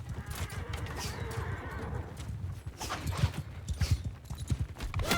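Many hooves thunder in a rapid, rolling clatter as horses gallop together in the video game Mount & Blade II: Bannerlord, with a horse whinnying over the steady drumming of the herd.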